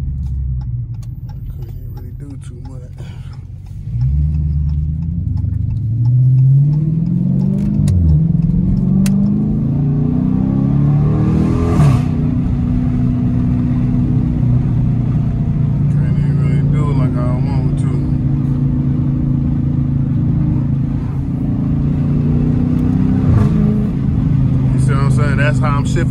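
A car with a catless exhaust revs hard and climbs through several manual-mode gear changes, the exhaust loud and droning close by, with voices talking over it.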